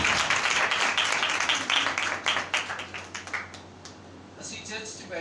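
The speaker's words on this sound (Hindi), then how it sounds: "भाई साहब ताली मारने से मार दो।" Church congregation applauding, dense clapping that thins and tapers into scattered claps, with a steady hum underneath.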